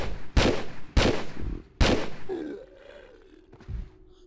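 Three sharp, loud gunshots ring out in quick succession in Tomb Raider 3, each with a short echoing tail, then a softer drawn-out tone and one faint late thump.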